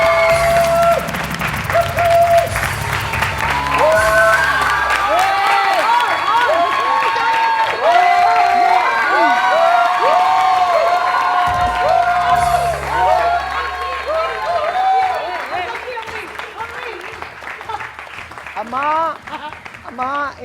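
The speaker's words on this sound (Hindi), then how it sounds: "मेरी अम्मी के लिए जरा तालियां बजाएं आप लोग।" Studio audience applause and cheering on a TV morning show, with music playing loudly over the clapping and cheering, which fades gradually toward the end.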